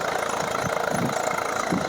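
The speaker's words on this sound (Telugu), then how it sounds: "ఈ ఐచర్ ట్రాక్టర్ మాత్రం సౌండ్ నెక్స్ట్ లెవెల్ వస్తుంది, రాయల్ ఎన్ఫీల్డ్ లాగా" An Eicher tractor engine thumps along with a rapid, even low-pitched knock, loud and close, running steadily on its own during field cultivator work.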